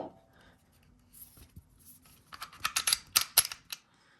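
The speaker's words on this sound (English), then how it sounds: "let's make sure the firearm is empty" A Springfield XD9 sub-compact pistol being cleared to check that it is empty: quiet handling rustle, then a quick cluster of sharp metallic clicks and clacks from working the slide, close and fairly soft.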